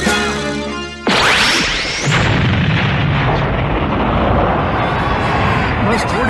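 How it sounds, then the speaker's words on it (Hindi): Fireworks go off in a dense, loud barrage of booms, whooshes and crackles from close by, erupting suddenly after a ten-second countdown voice and continuing without pause. "बस थोड़ी सी आतिशबाजी है बेटा"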